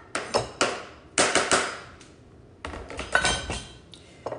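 Matzo ball batter with parsley and dill being stirred in a bowl, a series of sharp clinks and scrapes of a utensil against the dish in irregular bursts with short gaps, close and fairly quiet.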